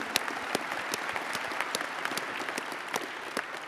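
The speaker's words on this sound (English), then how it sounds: "Let's give a big round of applause for that dream team." Audience applause at an award ceremony, a steady wash of many hands clapping close by with sharp individual claps standing out, continuous for the whole stretch without voices.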